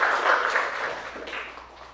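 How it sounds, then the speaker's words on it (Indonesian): Classroom of pupils clapping their hands together, a dense burst of applause-like clapping that is loud at first and slowly fades over two seconds. "Oke, tepuk tangan dulu."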